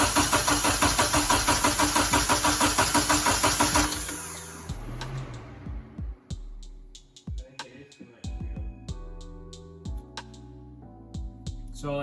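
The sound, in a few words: Nissan 240sx engine cranking and trying to start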